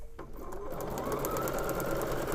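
A Bernina sewing machine stitches pieces of grey quilting fabric together, a steady fast mechanical whir with a regular rapid needle rhythm, close and alone.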